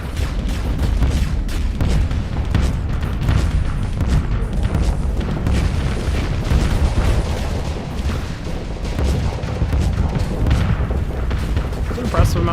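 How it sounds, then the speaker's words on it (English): Dense, continuous barrage of missile explosions and booming impacts in the space combat game Starsector, loud and relentless throughout, with a voice speaking over parts of it. "Holy crap, that is so many missiles."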